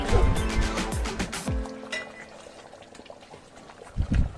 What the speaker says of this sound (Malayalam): നമ്മുടെ എല്ലുകറി നല്ലപോലെ തിളച്ച് മറിയുകയാണ്